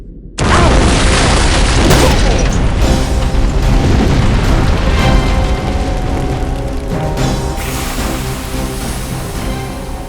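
A huge antimatter charge detonates aboard a ship in a Halo cutscene, a loud sustained boom with a long rumbling roar that fills the whole span and slowly fades, with no talk over it.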